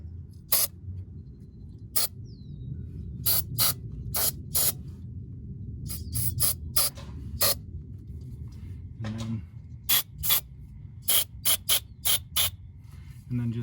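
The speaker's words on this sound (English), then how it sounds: "I'm gonna spray down in there, make sure those are cleaned out" Repeated short bursts of brake cleaner sprayed into the oil-filmed bolt holes of a 4.7 L Toyota Land Cruiser 100 Series during a starter install, about a dozen close, sharp hisses in irregular rhythm over a low background rumble.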